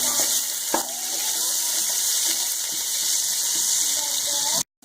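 A chopped medium onion cooking in a pot for white chicken tikka pulao, with a steady sizzle, occasional spoon scrapes and clinks, ending abruptly in silence.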